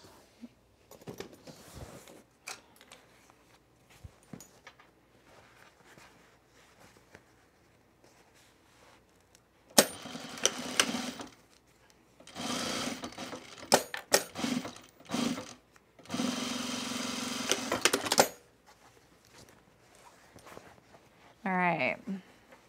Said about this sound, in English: All right, top stitching this one now.